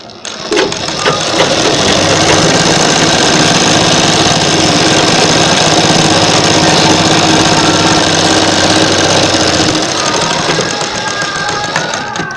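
A sewing machine stitching net fabric for slips runs loud and close in one continuous rapid rattling burst for about nine seconds before winding down, with no talking.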